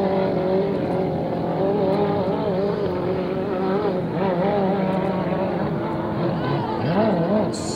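A loud, steady roar of a 2.5 Stock class racing boat engine at a regatta final, holding near-constant intensity throughout, with a rising whine near the end and busy background noise.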